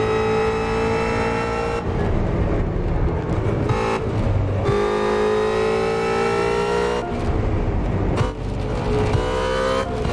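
A 770-horsepower Mustang GT350 in the racing game Assetto Corsa, driven through traffic, revs loudly and continuously, its engine note climbing through gears with brief drops at shifts, close and dominant without talk.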